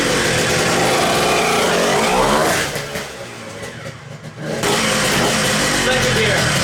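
A homemade mini street quad powered by a racing dirt bike engine accelerates hard, its high, buzzy engine note loud and close, easing briefly before revving up again, with a voice speaking over it.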